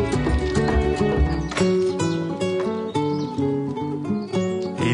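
A pair of horses pulls a carriage in competitive carriage driving. The hooves clip-clop faintly beneath a loud musical soundtrack of sustained tones and beats.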